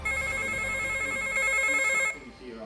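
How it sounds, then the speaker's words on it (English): A telephone rings with a steady, bright electronic trill that carries for about two seconds before cutting off, leaving a quieter background with faint talk. "The phone rings, and he instinctively knows who it is."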